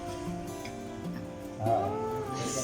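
A cat meows once or twice at close range over a steady background hum, with a brief louder cry partway through.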